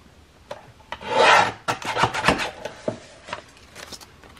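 Pages of a handmade journal signature being trimmed with a paper trimmer, a few rough scraping and rasping cutting strokes close by, with one longer stroke then shorter ones, no talking.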